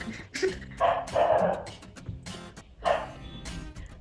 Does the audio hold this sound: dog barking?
yes